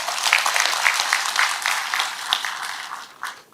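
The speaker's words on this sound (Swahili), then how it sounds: "So nataka mpigie waziri makofi kidogo." A crowd at a county security forum in Siaya Town claps briefly for a government minister, a short burst of moderately loud applause that tapers off within a few seconds.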